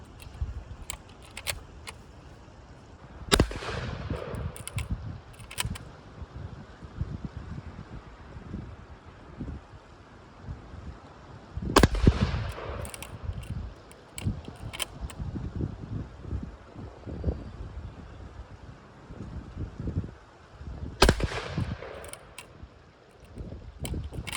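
Outdoors in wind, a Rock Island Armory lever-action .410 shotgun fires three sharp, loud blasts about nine seconds apart, each with a brief decaying echo, between handling noises and steady wind rumble.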